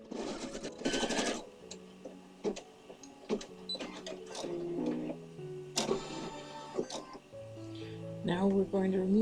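An embroidery machine runs a tack down stitch on material, its rapid mechanical stitching buzzing in uneven bursts with a hum of other background noise.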